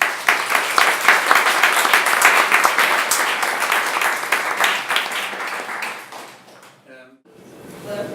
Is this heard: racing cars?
no